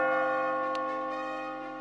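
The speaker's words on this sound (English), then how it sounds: "As you near the top, you will hear a bell ringing." A single deep bell strike rings out and slowly decays, its rich tones sustaining throughout, with a faint tap partway through, in the video game Catherine.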